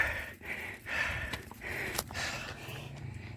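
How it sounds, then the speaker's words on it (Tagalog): A hiker breathes hard and pants on a dry-earth loop trail climbing Mt. Balagbag via Mt. Oro, with close, repeated out-of-breath gasps and snorts in an irregular rhythm and no talking. "Hingal."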